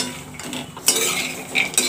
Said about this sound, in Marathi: आता थोड्या तुपात आपण काजू बदामही परतून घेऊया.